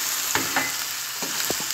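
Chicken and capsicum being stir-fried in a pan, with a steady background sizzle and several short, close scraping stirs of the spatula spaced unevenly, no talking.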